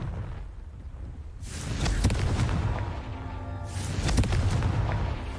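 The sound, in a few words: explosion from Confringo spell in Hogwarts Legacy video game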